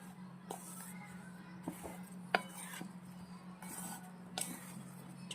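A spoon stirs stuffed green chillies (bharela marcha) in oil in a pan, giving a few faint, scattered clinks and scrapes over a low steady hum.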